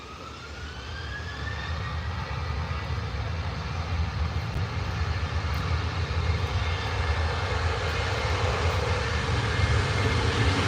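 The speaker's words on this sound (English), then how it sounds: "we've got Ryanair ready to take off. So I'll let you guys enjoy the sound of these engines" Ryanair airliner jet engines spooling up for takeoff at Bristol Airport, a loud broad roar that builds steadily over about ten seconds, with a rising whine faintly audible within it.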